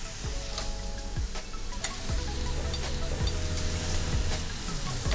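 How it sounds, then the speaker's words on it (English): Tomato broth poured into risotto already hot in a pan sets off a steady, close sizzle with soft stirring scrapes and occasional crackles, no voices over it. "with my risotto, I have it in the pan already, ready to go. I'm just gonna add my tomato broth."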